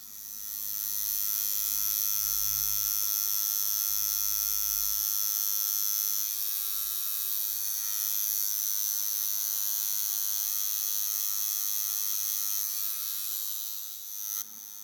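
A tattoo machine needle buzzes steadily and close up throughout, shading the teeth and filling the eye of a colored Woody from Toy Story, with a constant high whine over a faint electrical hum and no talk.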